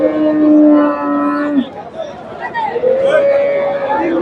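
Friesian dairy cows and calves at the Dhaper Haat cattle market in Bogura low with long, loud, sustained moos, one near the start and another later, over a murmur of market crowd noise.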